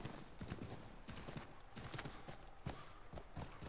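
Irregular hollow hoof clops of a horse walking in the video game Assassin's Creed 3, fairly faint, with a soft background hum and no talking.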